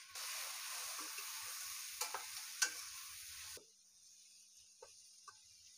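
Spices stirred in a hot pan for Indian-style fried rice, a soft sizzle with a few light scrapes and taps, the hiss dropping away partway through.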